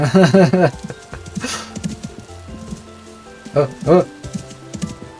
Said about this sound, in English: I told you it was gonna rain!